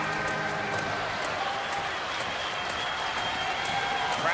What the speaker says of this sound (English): Crowd to its feet in Omaha.